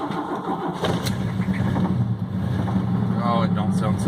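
A pickup truck's worn small-block Chevy 305 V8 cranks and catches, then runs with a rough, uneven rumble up close inside the cab, while someone talks over it.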